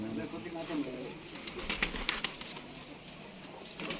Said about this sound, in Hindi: हाँ कबूतर बहुत अच्छा कबूतर जी